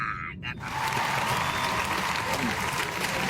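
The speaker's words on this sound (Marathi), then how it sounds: "वाजणारच त्याचं टाळ्या." Applause inside a car on return to Kannad after a long road trip, close dense clapping from a few people starting after a brief voice and continuing steadily.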